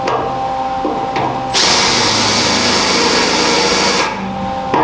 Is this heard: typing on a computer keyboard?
no